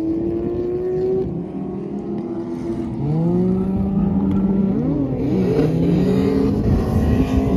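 A loud, close supercharged LS V8 engine in a swapped Nissan 240 drift car revs hard, its pitch climbing and wavering in repeated surges as the car accelerates, with a throaty rumble underneath.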